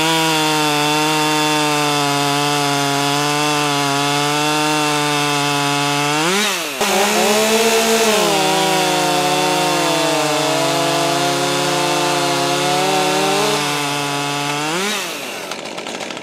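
A Husqvarna T540XP III top-handle chainsaw cuts through softwood, its engine screaming loud and steady at high revs, with a brief dip and recovery midway and easing off near the end.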